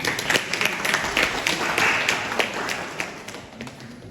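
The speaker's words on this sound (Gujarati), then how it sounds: "આપણે સૌ તાળીઓથી વધાવીશું" An audience at a Gujarati mother-tongue festival claps to welcome a guest speaker. The applause is dense and sustained, then gradually thins and fades.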